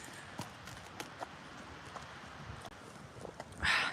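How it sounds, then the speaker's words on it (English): Horses outdoors in freezing weather, with scattered hoof clip-clops at an uneven pace, fairly faint against low background rumble, ending in a brief louder burst of noise. "Ashton, I'm out with the horses."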